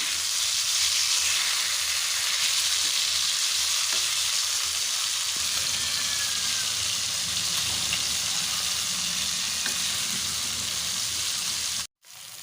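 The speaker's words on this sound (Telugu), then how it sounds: "ఇలా ఫ్రై చేసుకునే టైంలో ఆయిల్ని అయితే పక్కకున్న దాన్ని పైన వేసుకుంటూ ఇలా అయిన ఒక సైడ్ కొంచెం ఇలా ఫ్రై అయిన తర్వాత" Fish pieces for biryani sizzle steadily in hot oil, a dense continuous frying hiss with occasional soft spatters, close and alone until a brief cut near the end.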